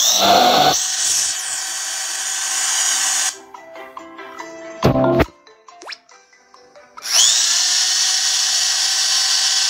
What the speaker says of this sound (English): Drills.